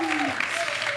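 Audience applause for the singer at an outdoor Nostalgie Fun music show, a dense steady roar of clapping with sustained tonal music sliding underneath throughout the brief moment.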